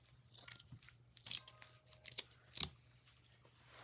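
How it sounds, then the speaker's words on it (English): Scissors trim paper for a junk journal, with several sharp snipping cuts and crisp paper rustles at close range in a quiet room. "so I'm just gonna trim it here."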